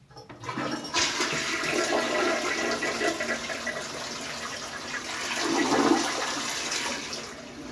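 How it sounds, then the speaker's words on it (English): Hotel toilet flushing: a sudden loud rush of water starts and then keeps up a steady roaring swirl with gurgling for several seconds, heard close and alone. "let's flush this toilet"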